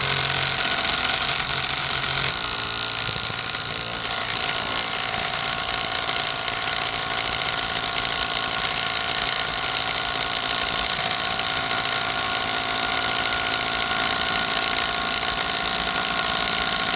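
Parkside PAWS 20 A1 20V cordless angle impact wrench running on wheel bolts, a loud continuous whirring buzz that holds steady for the whole stretch without letting up.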